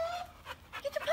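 A playful dog pants in quick, breathy bursts close by while playing with another dog, with a faint whimper and a voice partly overlapping.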